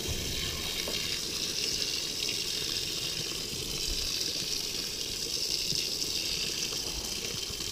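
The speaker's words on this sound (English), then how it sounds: "I'm going to grab my hose here, which is already hooked up." A hose gushing water into a roughly five-gallon container for off-grid laundry at an RV, a steady loud rushing flow heard close up and continuously, with no talking.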